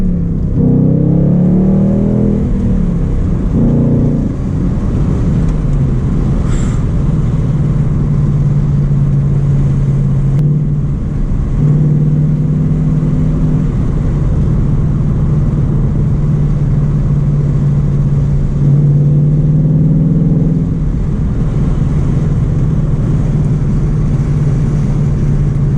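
A car with a Ford Coyote engine is driven on the street, its engine revving up under throttle in several surges and dropping back in between, loud and close from inside the cabin over steady road noise.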